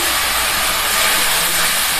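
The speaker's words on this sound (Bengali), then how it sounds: "আমার পেঁয়াজটা ভাজা হয়ে গেছে, দেখতে পাচ্ছেন একটু একটু ভাজা হয়ে গেছে। তারপরে আমি রসুনের পেস্টটা দিয়ে দিলাম।" Garlic paste hitting fried onions in a hot pan gives a loud, dense, steady hiss with a bright steamy sizzle and no talking.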